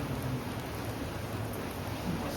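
Heavy monsoon rain falls in a continuous broad hiss, a steady wash of sound that stays even throughout with no talking.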